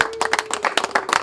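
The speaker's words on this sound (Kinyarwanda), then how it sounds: "mubaha amashyi" A group of people applaud in a short burst of quick, loud, close hand claps with an irregular rhythm and no voices.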